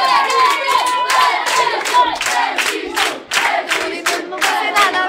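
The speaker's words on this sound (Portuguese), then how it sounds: "Não fazem, batem palmas e chamam o nome." A festival concert audience claps and shouts a performer's name in a loud, rhythmic chant, with crowd cheering mixed with steady handclaps throughout.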